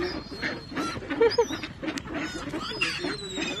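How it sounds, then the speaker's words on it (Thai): Ducks quack and honk in a noisy cluster amid pecking and shuffling sounds, a busy feeding flock close by. "น้องเป็ดได้อาหารค่ะกินยินกันใหญ่เลยจ้า"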